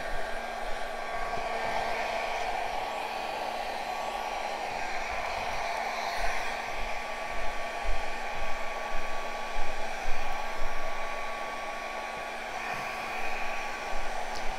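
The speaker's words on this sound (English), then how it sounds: "I just hit the canvas with my blow dryer" A hair dryer used to dry paint on a canvas blows with a steady, loud whirring hum and airy rush, running continuously throughout with slight fluctuations as it moves.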